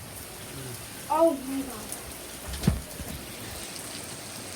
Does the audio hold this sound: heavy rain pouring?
yes